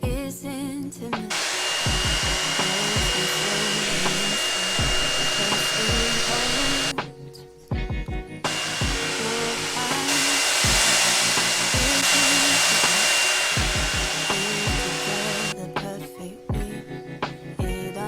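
Hair dryer blowing on 4C natural hair during an at-home straightening routine: a loud, steady, close whoosh that cuts out briefly once and then resumes, with faint music audible beneath it.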